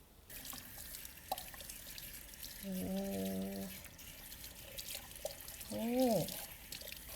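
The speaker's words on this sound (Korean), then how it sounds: "이제 미지근한 물로 헹궈주면 돼" Lukewarm water running over hair while a protein hair treatment is rinsed out in the shower, a steady low hiss of flow with a few drips, a short tonal swell near the end and faint background voices.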